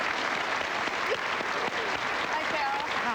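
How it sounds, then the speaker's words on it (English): A television talk-show studio audience applauds a guest's entrance, a steady wash of clapping held at a moderate level for a few seconds, with voices faintly mixed in. "please, a round of applause for Carol"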